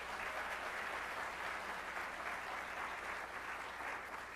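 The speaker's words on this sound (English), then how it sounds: "Please also join me in giving the Excellence and Equity Committee a round of applause" Steady, sustained applause from an audience honoring the Excellence and Equity Committee at a spring closing meeting, a dense even clapping that holds without a break and with no voices over it.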